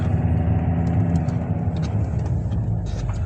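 A car engine hums steadily from inside the vehicle, a constant low rumble with road noise and no talking.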